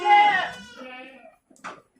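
A Boer crossbreed goat in a farm pen lets out one loud, drawn-out bleat, followed by a brief faint bleat close by.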